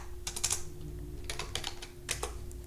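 Quick bursts of typing on a computer keyboard while entering a name into an Excel spreadsheet, keys clattering in several short clusters with brief pauses between them, close and clear against a low steady hum.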